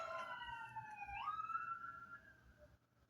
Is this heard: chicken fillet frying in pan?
no